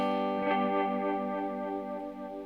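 A sustained guitar chord rings out through a delay pedal, the dry signal clean while swirling, chorus-like repeats echo and shimmer around it, steady and fairly quiet.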